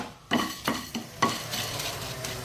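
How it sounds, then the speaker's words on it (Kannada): Cumin, coriander, fennel, fenugreek and pepper frying in a pan for an egg pepper fry, with several quick spatula stirs over a soft continuous sizzle. "ಎಲ್ಲ ಜೀರಾ, ಕೊತ್ತಂಬರಿ, ಸೋಂಪು, ಮೆಂತೆ ಎಲ್ಲವನ್ನು ಹಾಕ್ಕೊಂಡು ಚೂರು ಫ್ರೈ ಮಾಡ್ಕೊಳ್ಳೋಣ"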